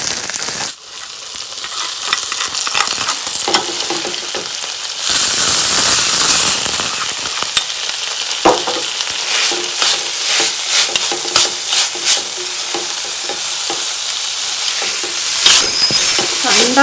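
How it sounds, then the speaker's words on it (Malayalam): Mustard seeds fry in hot oil for a pumpkin peel stir fry, giving loud, close sizzling with rapid crackling pops that swell into an intense spluttering burst and continue for several seconds. "ഇതിലേക്ക് നമ്മൾ കടുക് വറുത്തിടാൻ പോവുക."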